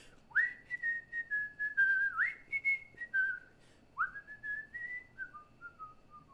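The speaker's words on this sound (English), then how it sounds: "I'll whistle whatever I can. Usually it's Christmas music because I'll be whistling." One person whistles a short melodic tune, clear and close, in rising swoops followed by held notes and a trailing fall, with no talking.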